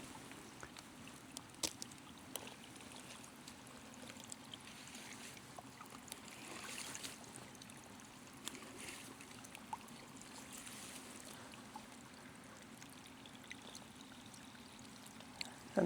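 Spring water on a Norwegian farm flows into a small dug reservoir as a faint, steady trickle. Soft little splashes and drips rise above it now and then in an otherwise quiet outdoor setting.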